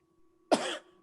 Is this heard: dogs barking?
no